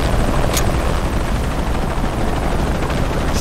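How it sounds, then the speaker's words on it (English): Helicopter in the video game Shadow of the Tomb Raider, a loud, steady rotor and engine roar that holds at the same level throughout, with a brief hiss burst near the start. "Always hated helicopters."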